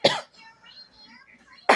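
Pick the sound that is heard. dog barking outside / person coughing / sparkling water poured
person coughing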